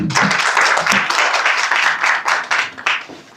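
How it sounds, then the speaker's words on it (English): Audience applause at a digital economy policy guide launch, a dense sustained wash of many hands clapping that swells and ebbs, fairly close and loud, with no talking over it. "Please, another round of applause for Ken."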